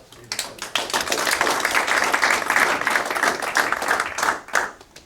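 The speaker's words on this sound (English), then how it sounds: "Let's give a warm round of applause" A morning career-strategy session audience gives a warm round of applause, clapping swelling quickly and holding steady before tapering off near the end.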